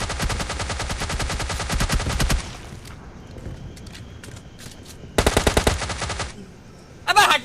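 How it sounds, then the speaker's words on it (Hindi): Mobile battle-royale gunfire in PUBG Mobile Lite: a long rapid automatic burst, a quieter gap with distant scattered shots, then a second loud rapid burst and a short final volley, with no talking. "मुझे दिख रहा होता है फायरिंग साउंड"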